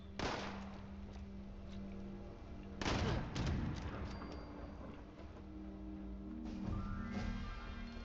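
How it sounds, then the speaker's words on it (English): Gunfire in Fallout 76, with a few sharp, separate shots cracking out, the loudest burst near the middle, over a steady low game ambience with no one speaking. "Missed two shots."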